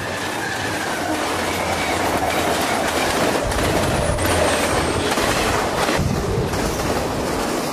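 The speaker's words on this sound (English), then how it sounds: "this high-priority eastbound Santa Fe piggyback train was spotted with 7 locomotives at top speed" A fast eastbound Santa Fe piggyback freight train with seven locomotives roars past nearby, a loud continuous rumble with rattling wheels and a brief squeal, no voices.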